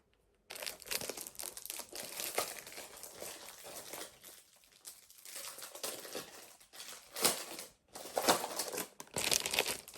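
Plastic wrapping around a new notebook crinkles and crackles close up in irregular bursts of handling, loud and busy with short pauses between.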